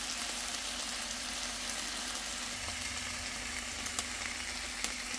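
Rashers of dry-cured Welsh bacon sizzle and spit steadily in a pan with water, a continuous close crackling hiss with a few sharper pops toward the end.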